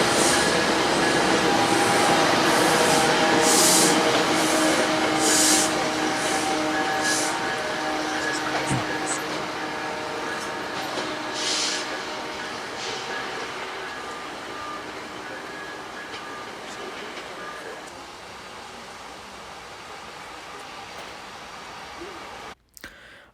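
A freight train led by a CSX Dash 8 locomotive passes nearby, its loud rumble and rolling wagon noise with a few tonal squeals at first, then slowly fading into the distance.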